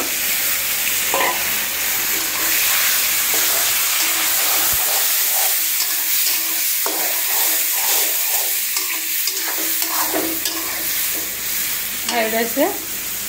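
Chicken breast stir-frying with onion, tomato and green chili for chow mein: a loud, continuous sizzle and hiss with scraping stirs and occasional utensil clinks, no voices.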